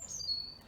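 A garden bird at a feeder gives a thin, faint chirp that trails into a brief high whistle against a quiet outdoor background.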